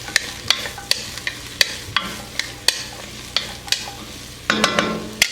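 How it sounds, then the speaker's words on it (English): Food being stirred in a sizzling pan, a close spoon scraping and tapping in a quick, fairly regular rhythm over a light frying hiss, with a louder flurry near the end. "give these a little stir here"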